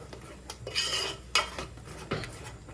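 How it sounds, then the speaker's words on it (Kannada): Spices and masala being stirred and fried in oil in a pan for egg sambar, with clinking spoon-on-pot scrapes and a light sizzle in short bursts, no voices. "ಎಣ್ಣೆಯಲ್ಲಿ ಚೆನ್ನಾಗಿ ಇದನ್ನು ಈ ಥರ ಫ್ರೈ ಮಾಡಬೇಕು"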